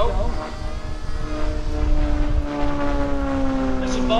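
A T-34 Mentor propeller airplane passes at an airshow, its engine drone steady and fairly loud with a gradual pitch shift as it goes by, against open-air background noise.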